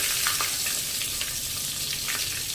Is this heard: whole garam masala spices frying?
yes